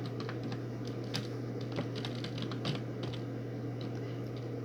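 Keys tapped on a computer keyboard while typing into an online class chat, a quiet, steady patter of clicks with small bursts of louder strokes over a constant low electrical hum in an indoor room.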